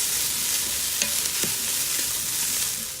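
Browned sausage stirred in a hot Ninja Foodi pot, a loud steady sizzle close up with a few scraping and clinking stir strokes.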